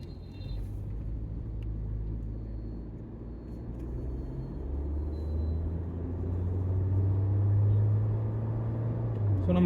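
A Mahindra Scorpio-N petrol automatic, heard from inside the cabin, gives a deep low engine rumble that swells steadily as it accelerates. The rise tracks the throttle, with road noise underneath and no talk over it.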